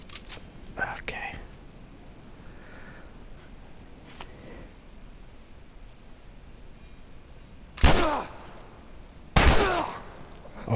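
Gunfire in The Last of Us Remastered, with two loud, sharp bursts late on and fainter shots near the start, over quiet ambient game sound.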